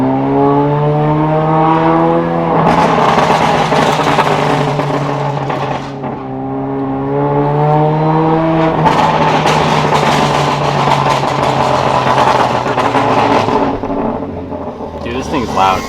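A 2017+ Honda Civic Si running catless with a muffler delete revs repeatedly, its loud raspy exhaust tone climbing and falling in several rising sweeps, crackling between pulls, close by and alone.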